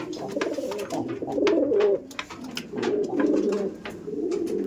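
Pigeons in a breeding loft coo in repeated low, throaty rolling phrases, several overlapping birds close by and fairly loud, with faint flutters and shuffles between calls and no voices.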